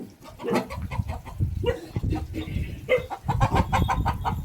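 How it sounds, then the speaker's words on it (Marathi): An old hen clucks repeatedly up close, a busy run of throaty clucks and short calls with other farmyard fowl around. "मित्रांनो ही सगळ्यात जुनी कोंबडी आहे आपली"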